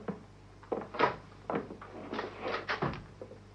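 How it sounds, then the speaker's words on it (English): A door in a British crime drama scene is worked open, with a series of close knocks, clunks and rattles of handle and wood over a few seconds and no talking. "Unlock the door, Charlie."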